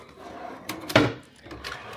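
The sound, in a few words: bedside drawer opening and closing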